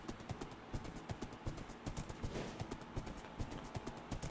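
Horse hooves clip-clopping in the video game Minecraft, a steady run of sharp, evenly spaced hoofbeats at close range, continuing without pause and with no voices over them.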